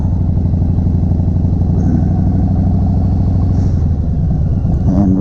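A 2019 Harley Davidson Softail Slim rumbles along on the road with a loud, steady, deep engine pulse that carries through the whole stretch, with wind and road noise layered on top.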